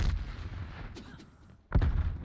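Grenade explosions in a video game shooter, two dull bursts, one at the start and a sharper one near the end, separated by faint ambient noise.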